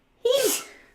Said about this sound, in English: Sneezing on the truth.